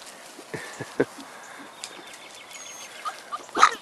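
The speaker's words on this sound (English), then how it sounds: "Hey, puppies." Puppies whimper and yip faintly in short, scattered bursts, ending with one louder squeal.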